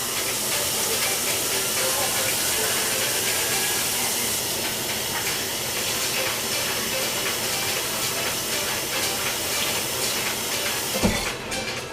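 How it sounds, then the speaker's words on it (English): Running tap water splashes steadily during a hand wash in a home kitchen, a continuous broadband rush held at even loudness for about eleven seconds, ending with a brief clunk. "first I'm going to wash my hands real quick"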